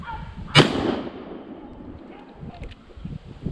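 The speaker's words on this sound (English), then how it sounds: "I was shooting through some trees, but went right on him." A single loud rifle shot rings out while hunting wallaby in tight bush, followed by a long fading echo and rustling outdoor background.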